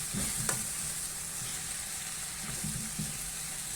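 Sliced leeks sautéing in a pan for an Albanian hand-rolled börek filling: a quiet, even sizzle with a few soft scraping stirs near the start and again toward the end.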